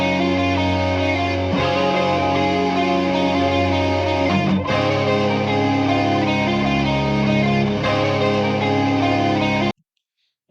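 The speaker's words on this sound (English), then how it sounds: "right here we have a loop downloaded from Looperman." A sample loop from Looperman plays back in FL Studio, loud and full, with layered sustained tones and effects that repeat steadily. It cuts abruptly to silence just before the end.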